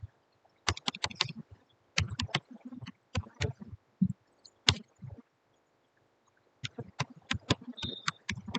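Keys clatter on a computer keyboard in short bursts of quick, sharp taps separated by pauses as a print line is added to a Java program, close and fairly quiet, with no speech.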